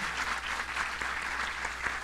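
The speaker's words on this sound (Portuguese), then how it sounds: "uma salva de palmas, né?" Audience applause after a panel discussion on conflict mediation, a steady wash of clapping from a room of listeners, fairly distant and even throughout with no talk.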